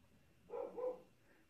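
A dog barks twice in quick succession, faint and muffled from outside, over quiet background hiss.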